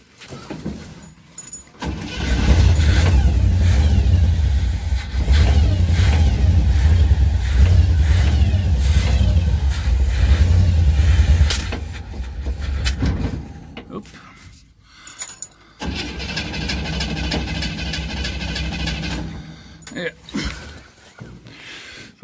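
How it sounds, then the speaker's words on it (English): A 1966 Cadillac DeVille engine roars loudly as it revs for several seconds, then drops to a quieter, uneven idle with brief pauses and rattles, recorded close by with people talking around it. "I mean, so it's a pretty good engine."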